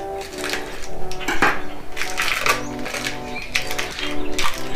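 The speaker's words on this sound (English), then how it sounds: "We're going to cut open our cheese here." Cheese for smoked grilled cheese being cut open on a board makes close, irregular clacks, scrapes and crinkles in quick bursts throughout.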